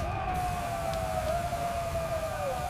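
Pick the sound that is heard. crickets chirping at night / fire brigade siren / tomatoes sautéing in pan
fire brigade siren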